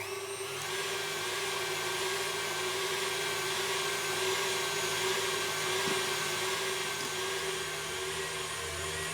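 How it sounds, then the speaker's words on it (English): A steady, unbroken whirring drone as egg whites are whisked until frothy, loud and continuous with no talking over it. "whisk these whites until they're sort of well and frothy"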